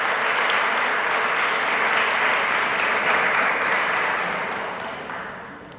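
A roomful of people at a thesis award ceremony applauds the evaluators, a broad, even wash of clapping that holds strongly and then tapers slightly toward the end.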